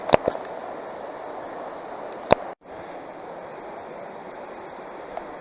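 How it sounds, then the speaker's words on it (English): Creek water flows in a steady broadband wash close by, with a few sharp clicks and a brief dropout partway through, and no voices. "We're on the creek."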